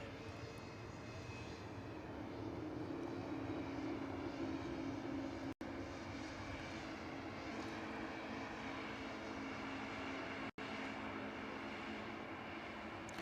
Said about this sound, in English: Swiss heading off to Zurich. HBJCC with flight 381. It's a beautiful A220.